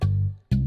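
Two deep, sustained bass notes for a bachata remix, the first held and fading, the second starting cleanly after a short gap, clear and alone with no talking.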